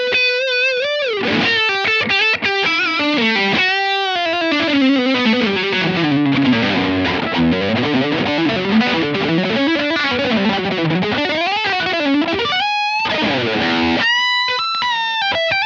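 Electric guitar played through a Blackstar Dept. 10 Dual Distortion valve pedal, dry with no reverb or delay, with sustained distorted chords and bending melodic lines ringing out continuously, alone.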